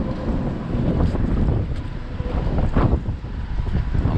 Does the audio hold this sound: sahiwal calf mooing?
no